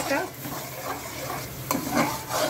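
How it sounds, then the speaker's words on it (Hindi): Ground chilli and turmeric fry with vegetables in hot oil, producing a dense close sizzle interrupted by repeated stirring scrapes of a utensil in the pan; no speech over it. "सब्जियों में मसाला भून लो ना"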